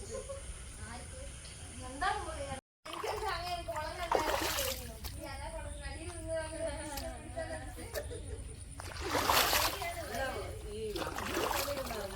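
On a rainy outing, people splash about in water, with irregular sloshing and bursts of spray mixed with chattering voices and children talking, and a louder splash near the end.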